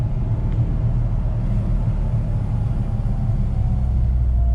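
Honda Civic Si engine fitted with solid motor mounts, a loud steady low rumble and drone heard from inside the car, continuous and even throughout with no talk.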